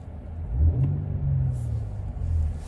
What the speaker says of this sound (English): I'll give you a little rev